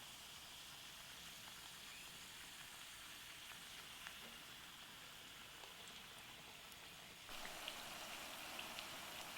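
Pakwan dough frying in hot oil, a steady, fine crackling sizzle that holds evenly throughout and grows slightly louder and brighter near the end, with no talking.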